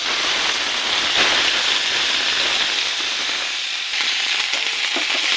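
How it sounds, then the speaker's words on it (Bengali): Steady, loud sizzling of onion paste frying in oil, a dense hiss that continues throughout with no voices. "পেঁয়াজ বাটাটা একটু ভাজা হয়ে গেলে"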